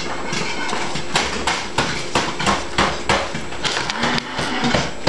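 Someone smashes a packet of instant noodles in a kitchen at night, producing a series of sharp, irregular thumps and crunchy crackles, loud and close, repeating roughly every half second.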